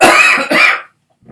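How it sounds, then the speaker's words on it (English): Two harsh, close coughs in quick succession, followed by a brief silence and a faint trailing sound. "I'm gonna cough, guys."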